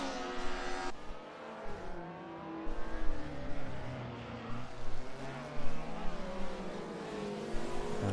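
DTM race cars scream past one another at Norisring in a racing video game, their engines rising and falling through gear changes as they overtake, loud and close, with tire noise and no talk.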